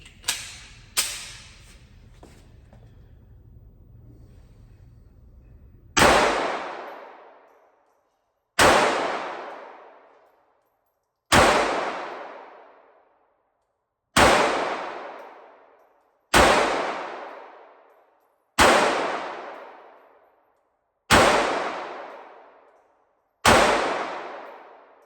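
Smith & Wesson Bodyguard 2.0 pistol firing single shots at a steady pace, about eight loud cracks each ringing out briefly, with a couple of faint clicks and handling noise before the shooting begins.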